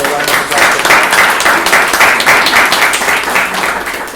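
Loud, sustained audience applause at a business symposium, dense clapping filling the room steadily for several seconds with no break.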